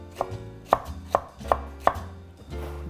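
Knife chopping green and red chili peppers on a cutting board: five sharp, evenly spaced cuts, close and fairly loud, with no talk.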